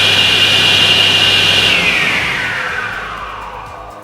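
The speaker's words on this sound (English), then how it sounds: "Now when you start the saw, the green button should be depressed and held until the saw blade is up to its standard running speed." A SIP cast iron 10 inch table saw runs at full speed with a loud, steady whine, then is switched off and winds down, its pitch falling and fading over the last couple of seconds.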